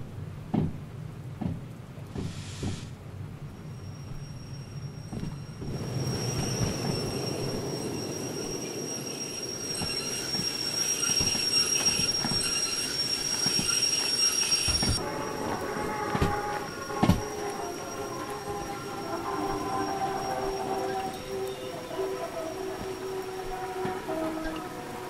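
A train in Derail Valley rumbles steadily with clanking knocks and a high metallic whine, the tone shifting partway through as the rolling noise continues.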